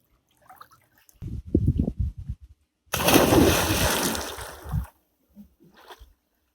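A person enters swimming pool water with a rushing splash lasting about two seconds, preceded by light knocks and shuffling and followed by faint drips and quiet movement.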